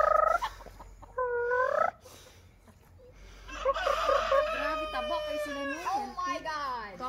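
Chickens cluck and squawk in bursts while being hand-fed, their calls close and lively, with people talking over them throughout.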